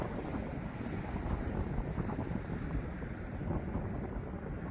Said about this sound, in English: now it's really windy down here